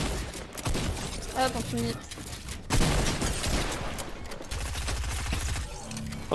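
Rapid bursts of video game gunfire crackle through a Fortnite-style build fight, with a couple of distinct volleys over constant in-game clatter and tones, while French-speaking players talk over the action.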